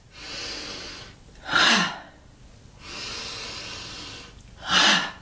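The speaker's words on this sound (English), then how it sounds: "This is an invigorating breath." Two forceful, breathy exhalations during a seated chair yoga exercise, each a short rushing burst, with softer steady breathing between them.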